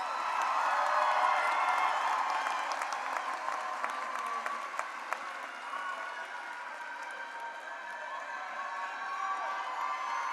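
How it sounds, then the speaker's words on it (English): Sustained applause and cheering from a large crowd at a high school graduation ceremony for the class of 2022, dense clapping filling the hall with scattered whoops, gradually easing but continuing throughout. "can I get one last round of applause for the persevering class of 2022?"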